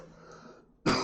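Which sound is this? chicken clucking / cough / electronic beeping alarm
cough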